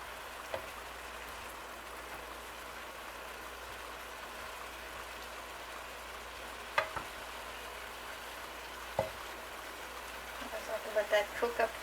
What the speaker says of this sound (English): let the onions cook up a little bit